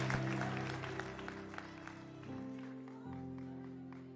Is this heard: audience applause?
yes